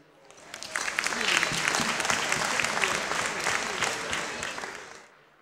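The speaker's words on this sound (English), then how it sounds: "So to give a round of applause for Jasmine, please." Wedding guests applaud the bride at a reception, a dense, steady wash of many hands clapping that swells quickly and holds loud for several seconds before cutting off, with some voices mixed in.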